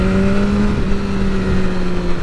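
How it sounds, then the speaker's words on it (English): A 2021 BMW S1000R motorcycle accelerates hard, its engine note rising steadily, then a brief dip as a quick shift from first to second gear occurs and the pitch climbs again, loud and close amid wind rush. "The quick shifter from first to second is butter smooth."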